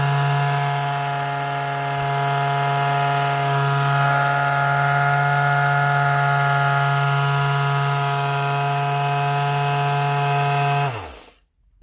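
An RZTK B3500 vibrating orbital sander hums steadily with a bright, buzzing vibration for several seconds, then winds down and stops abruptly.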